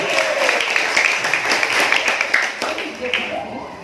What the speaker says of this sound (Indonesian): Tepuk tangan untuk adik-adik semuanya